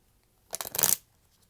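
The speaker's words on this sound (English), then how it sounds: "While I'm shuffling here" Tarot cards get a quick riffle shuffle, a short burst of crisp flutter and snapping that rises and stops within half a second, set against near silence.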